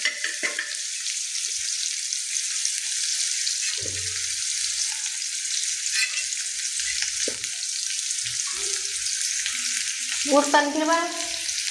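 Onion and cumin fry in oil with a constant bright sizzle and occasional stirring knocks, and a voice speaks briefly near the end.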